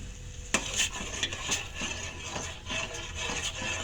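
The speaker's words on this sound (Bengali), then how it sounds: "এখন এটা নাড়াচাড়া নাড়তে হবে" A spoon stirs a jelly mixture in a pot for falooda, making a steady run of soft scraping and sloshing strokes against the pot, close and moderately quiet, with no voices.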